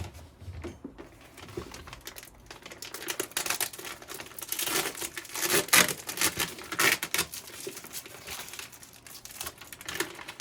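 A ported chainsaw muffler being unboxed from a plastic Farmer Tech bag, with close, irregular crinkling and rustling bursts of plastic handling, no talk.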